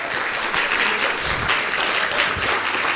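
Hearty audience applause at an international conference on migration research and policy, celebrating a colleague's promotion: dense, steady clapping from a large crowd that holds at a full, even level for the whole stretch.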